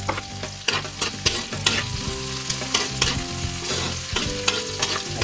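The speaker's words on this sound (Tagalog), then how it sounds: "nagisa na tayo ng bawang at sibuyas" Garlic and onion sautéing in a pan for pork pancit, a steady close sizzle broken by repeated scraping stirs of a utensil against the pan.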